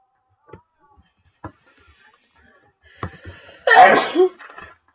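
A single sharp sneeze from a woman, close and loud near the end, after a few quiet ticks and small handling noises.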